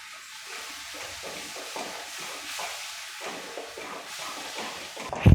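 Ground masala paste for paneer butter masala, with Kashmiri chilli, stirred in a hot frying pan: a steady rhythmic scraping and soft sizzle, close and moderate, ending in a louder clatter.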